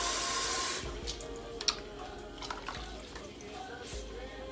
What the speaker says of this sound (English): I'm going to add another cup of water to that.